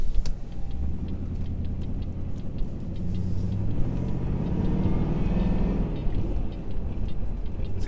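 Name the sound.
Jaguar S-Type R supercharged V8 driving, supercharger whine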